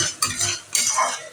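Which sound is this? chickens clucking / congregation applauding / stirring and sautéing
stirring and sautéing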